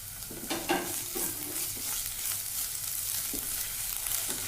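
Sliced onion with green chilli and ginger-garlic paste sautéing in a pan, a steady oily sizzle broken by scraping spatula strokes, close up and without talk.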